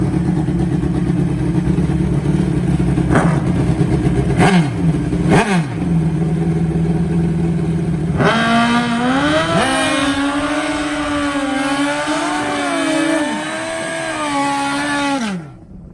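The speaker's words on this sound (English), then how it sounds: "we're going to give you some exhilarating motorcycle drag racing action" Motorcycle drag racing engines roar loudly and continuously, with rising revs and gear-shift sweeps as the bikes accelerate hard, staying close and dominant throughout before cutting off at the end.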